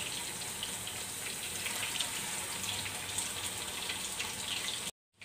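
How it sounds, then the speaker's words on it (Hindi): Water in which chickpeas were boiled, poured into a pan of fried masala for a shahi chana gravy, a continuous splashing, hissing pour that stops abruptly near the end. "जिस पानी में हमने चनों को बॉइल किया था वो पानी ऐड कर देंगे"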